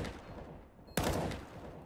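A single sharp gunshot rings out in a professional Counter-Strike: Global Offensive match, a sudden loud crack partway through. A steady, busy game background runs before and after it.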